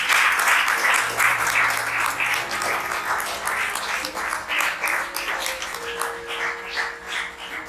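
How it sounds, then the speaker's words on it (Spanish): Church congregation applauding during a service, clapping rising and falling in uneven waves over several seconds, with a faint dog bark and a held tone in the background. "Denle un aplauso al Señor,"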